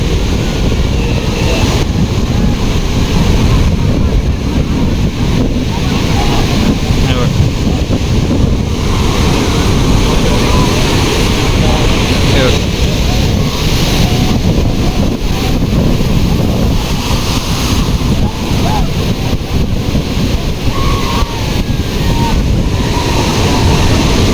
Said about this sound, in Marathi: लाटा एवढ्या मोठ्या मोठ्या येतात